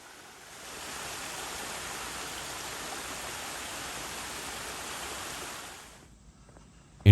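A waterfall in Kentucky, swollen after a good rain, gives a steady, even rush of falling water with no change in level, then cuts off abruptly near the end.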